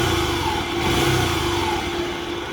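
A CG motorcycle engine rumbles loudly close by, its throttle blipped to raise the revs briefly before settling back to a steady idle.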